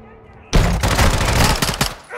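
Gunfire in the Call of Duty Modern Warfare 2 video game: a loud, close burst of rapid automatic shots lasting over a second, ending abruptly.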